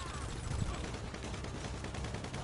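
Rapid machine gun fire from an MG in Grand Theft Auto V online free roam, a dense continuous burst of shots at steady volume throughout.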